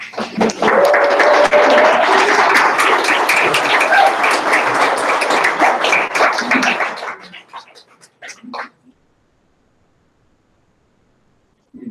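A conference audience breaks into loud, sustained applause, dense clapping that holds for about seven seconds before thinning into a few scattered claps and falling silent.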